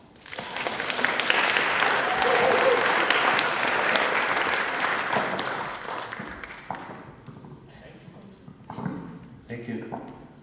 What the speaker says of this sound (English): Let's give another round of applause to youth leadership.